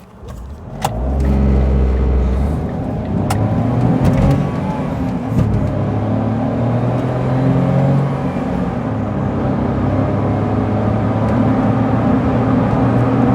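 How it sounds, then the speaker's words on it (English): A Smart 1.0 micro hybrid car engine starts up and then accelerates hard from standstill, a steady loud rising drone with gear changes, heard from inside the vehicle. "So 0 to 60 test from a non-running engine."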